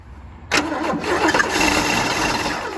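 A 1977 Chevy Camaro V8 cranks and fires at about half a second, then settles into a loud, rough, steady running rumble close to the microphone.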